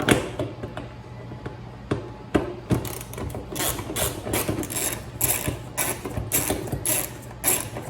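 A ratchet wrench clicks rapidly in bursts while loosening bumper bolts on an old Mitsubishi, close and crisp, the clicking getting faster and denser over the second half, no talking.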